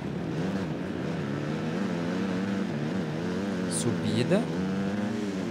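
A motocross bike's engine in the racing game MXGP 2019 drones continuously, its pitch rising and falling as the throttle is worked over jumps, steady and close beneath someone talking throughout.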